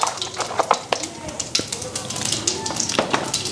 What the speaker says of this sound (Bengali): এদিকে জিরা ফোড়ন দিলাম